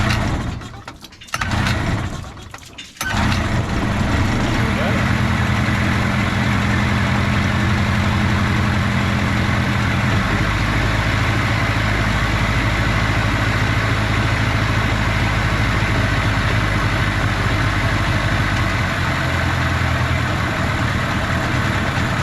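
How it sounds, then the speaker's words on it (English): An outboard motor on a small aluminium tinny, unused for a couple of months, sputters briefly, cuts out, then restarts and settles into a steady, loud, close idle with a low throbbing drone, no voices over it. "it already sounds like it's idling way better than it probably ever has"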